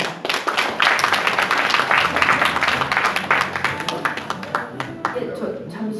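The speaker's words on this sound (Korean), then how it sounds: "박수로 맞이를 하겠습니다." Audience at a Korean academic conference claps to welcome a lecturer, lively applause starting strong and thinning toward the end into scattered claps.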